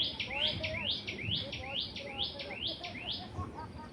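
In the hills at Manvelpada, Virar, a bird repeats a quick, bright chirp about a dozen times in a steady rhythm, close and clear over a soft background murmur.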